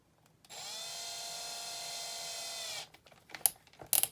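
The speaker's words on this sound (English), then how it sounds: "Once again, drill's on slow speed." An electric drill runs at slow speed during a guitar setup, giving a steady close whine of about two seconds before stopping, followed by a few sharp clicks and knocks.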